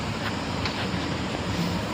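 A cool night wind blows steadily outside a farmhouse, a continuous soft rushing with slight gusts and no other sounds or voices.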